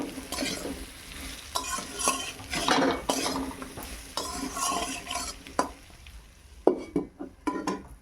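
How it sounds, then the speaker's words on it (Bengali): Okra and prawns seasoned with salt and turmeric are stirred in a pan, a steady run of scraping and clinking utensil strokes over a soft sizzle, thinning into a few sharp separate clanks near the end. "লবণ আর হলুদ দিয়ে ভালো করে নেড়ে আবার আমি ঢাকা দিয়ে দেব।"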